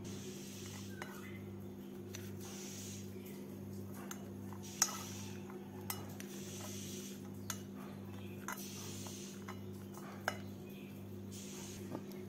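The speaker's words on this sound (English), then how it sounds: "And mix them thoroughly well now." Spoon stirring cinnamon powder and cloves into a Christmas fruit and rum cake batter in a bowl, with faint scrapes and sharp utensil clicks over a steady background hum, no talking.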